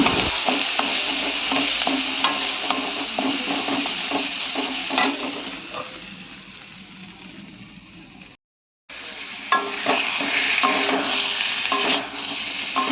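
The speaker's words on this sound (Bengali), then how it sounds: "আমি পটলগুলোকে তেলের মধ্যে দিয়ে দিচ্ছি জাস্ট লাল লাল করে একটু হালকা করে ভেজে নেব" Pointed gourd (potol) pieces fry in hot oil with spices and turmeric, giving a steady loud sizzle with stirring scrapes, briefly cut to silence midway before resuming.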